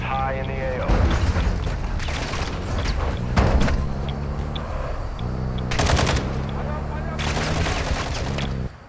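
Automatic gunfire in Call of Duty DMZ, with repeated rapid bursts of machine-gun fire, some loud and close and others further off, mixed with radio-style game voice chatter.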